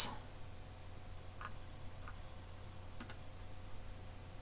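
Computer keyboard keys and a mouse click sparsely, a few soft isolated clicks spread over several seconds, faint and close in a quiet room with no talk.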